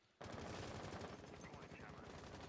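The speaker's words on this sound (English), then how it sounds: "their gunfire is answered by Astralis' gunfire." Dense, rapid gunfire from two sides trading shots in a competitive Rainbow Six Siege esports match, a loud continuous barrage of automatic fire that starts abruptly and holds steady to the end.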